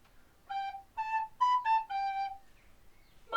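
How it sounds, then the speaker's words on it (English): A recorder plays five short, breathy notes, a few slightly bending in pitch, close and clear, followed by quiet. "My recorder sounds like this."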